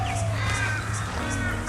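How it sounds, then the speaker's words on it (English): Loud, harsh crow-like caws from birds in Australia repeat every half second or so, close by, over a steady low outdoor rumble. "Some loud birds in Australia."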